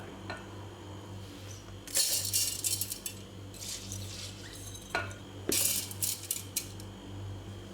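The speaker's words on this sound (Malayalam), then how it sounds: "ഇനി ഒരു മിക്സിയുടെ ജാറിലേക്ക് കഴുകി വെച്ചിരിക്കുന്ന അരി ഇട്ട് കൊടുക്കുക." Washed, soaked rice dropped into a mixer grinder jar, with clinks and rattling grains at close range in a quiet kitchen, heard in several separate bursts over a steady low hum.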